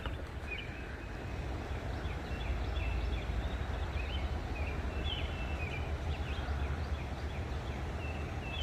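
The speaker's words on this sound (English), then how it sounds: "Oh look, there's some Canadian geese over there." Distant Canada geese honk intermittently over a steady rumble of outdoor noise and wind.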